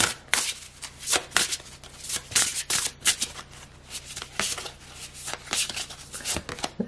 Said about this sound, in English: Let's just pull one card for us.